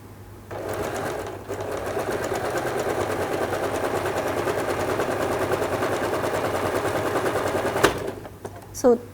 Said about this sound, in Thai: แล้วก็เย็บไปตามเส้นที่เนาเลยนะคะ